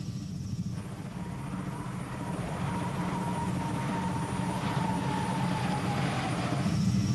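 An airplane engine drones continuously in flight an hour after takeoff, a steady, fairly loud rumble with a slowly wavering tone, no voices.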